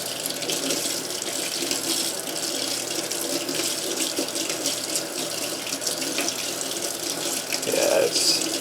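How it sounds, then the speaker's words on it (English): Steady cold water running from a tap over a dyed disc golf disc, a continuous even splashing rush with no voices over it. "set the dye by running it under some cold water"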